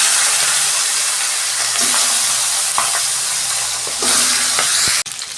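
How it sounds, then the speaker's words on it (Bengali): A fish head sizzles in hot oil, a loud close steady hiss with crackles and a few spatula stirs, before the sound cuts off abruptly near the end. "তেল গরম হয়ে গেছে, মাথাটা ভেজে নিচ্ছি।"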